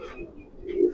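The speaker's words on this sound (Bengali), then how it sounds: "এই হলো কবুতরটা," A black racer pigeon gives a single short, soft coo up close, swelling at the end.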